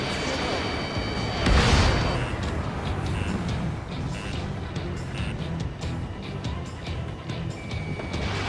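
Rocket strike and explosions in the combat flight game Ace Combat 7: a heavy boom bursts out early, then a dense rumble of gunfire, blasts and engine roar continues under game voices.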